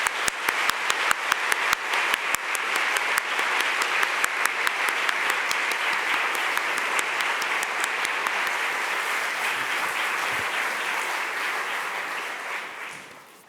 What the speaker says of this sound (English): Please join me in offering a round of applause for Jake Sullivan and Meghan Sullivan.